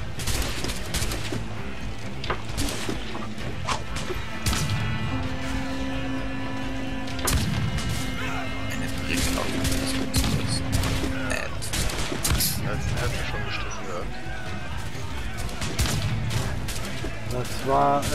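Gunfire in the naval game Assassin's Creed 4 Black Flag: dense, loud volleys of shots and booming bursts run throughout, mixed with in-game effects and a steady tone partway through.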